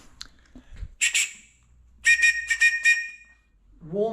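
A hill-running safety whistle from a kit list for the Cheviot Goat is blown close by: one short shrill blast, then a rapid string of four sharp toots, with a brief rustle before and a voice starting at the end.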